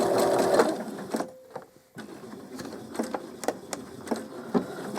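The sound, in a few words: sewing machine stitching an owl toy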